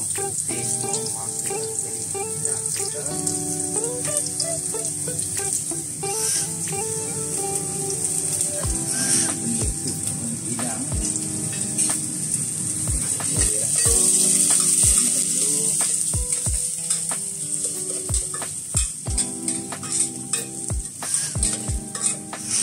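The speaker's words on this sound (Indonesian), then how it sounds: "Masukkan bahan-bahan tumisan kita." Sauté ingredients for chicken soup sizzle and fry steadily in a hot pan, a continuous crackling hiss punctuated by repeated sharp clinks of stirring, with no one speaking.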